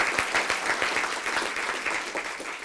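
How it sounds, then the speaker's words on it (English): Dense, steady applause from an audience at an awards ceremony, many hands clapping at once in a loud, even wash that fills the space without any voices rising above it. "And I'd like us to give him a round of applause"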